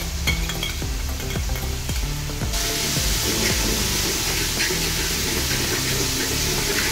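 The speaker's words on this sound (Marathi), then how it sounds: "त्याला पण तेलात चांगले परतून घेऊया." A paste of eight to ten green chillies sizzles loudly in hot oil for mutton biryani, a constant frying hiss broken by stirring scrapes, with the sizzle growing brighter and fuller partway through.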